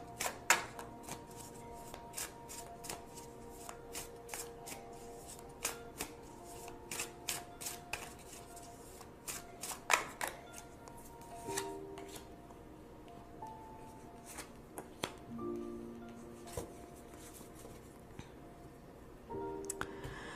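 Tarot cards being shuffled and drawn, heard as a steady run of soft, close card flicks and riffles with sharper ticks and slaps, the sounds coming alone with no talking.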